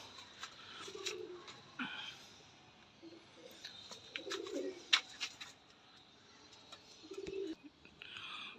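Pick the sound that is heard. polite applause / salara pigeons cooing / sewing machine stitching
salara pigeons cooing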